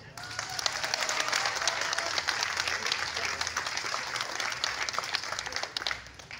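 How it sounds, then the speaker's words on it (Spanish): Audience applause at a government ceremony handing out support to rural entrepreneurs, a thick, even wash of many clapping hands held steady for several seconds before fading at the close. "También recibimos con un fuerte aplauso a Salud García"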